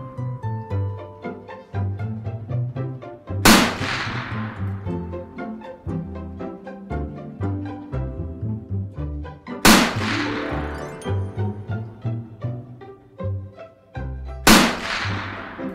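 Three loud, sharp gunshots fired at a pink target ring out several seconds apart over a continuous background of music, each bang decaying quickly.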